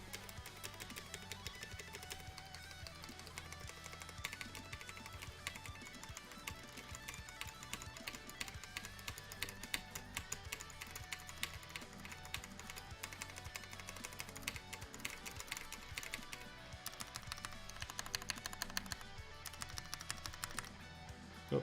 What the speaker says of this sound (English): On the right side of the spacebar sounds awful.